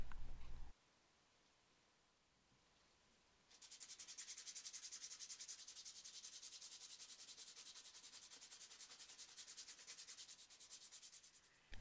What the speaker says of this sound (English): I'm just going to shave off the excess material and sand it after that.